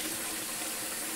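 Steady stream of water running from a kitchen faucet into the sink while dishes are washed, a continuous close hiss and splash with no talking.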